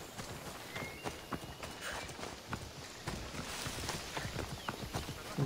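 Horse hooves clip-clop at a walking pace in Assassin's Creed Odyssey, a steady run of soft near footfalls over faint ambient game sound.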